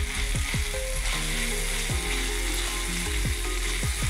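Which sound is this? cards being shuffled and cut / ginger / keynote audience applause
ginger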